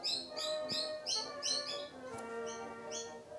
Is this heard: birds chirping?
yes